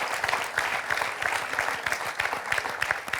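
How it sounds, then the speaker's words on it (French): Studio audience applause on a French television quiz show, a steady moderate clatter of many hands lasting a few seconds with no voices over it. "On peut applaudir Jean"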